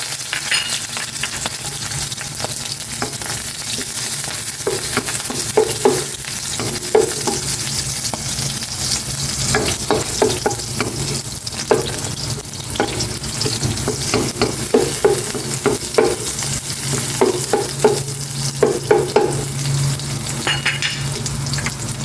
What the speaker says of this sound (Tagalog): Magigisa na ako. Naglagay na ako ng mantika.